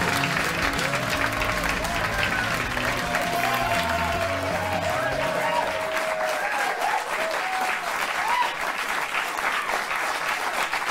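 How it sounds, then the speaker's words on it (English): Loud, continuous applause from a late-night talk show studio audience, mixed with whoops and cheers, with a voice briefly heard over the clapping before it thins out. "Enough of your pathetic applause."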